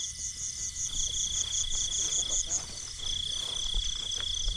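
Crickets chirp in a Thai rice field in a steady, high, shimmering trill, continuous and moderately close against a quiet rural background with faint low noises.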